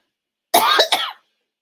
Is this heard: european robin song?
no